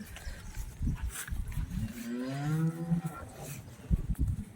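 A cow lets out a single long, low moo in the middle, with rustling and shuffling noises around it.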